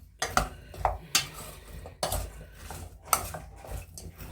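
Potatoes tossed with oil for an air fryer clatter against the bowl or pan, giving a string of irregular scraping knocks and clinks from a utensil, close and moderately loud.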